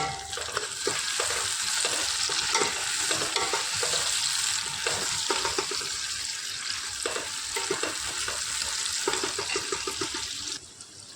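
Tomatoes cooking into a browned onion gravy in a large batch, a dense steady sizzle overlaid with regular scraping and stirring strokes close by, fading slightly at the end.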